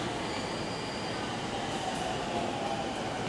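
A JR Yamanote Line train rolls along the Shinjuku station platform, a loud, steady rumble of wheels and carriages with faint squealing and high tones, close by throughout.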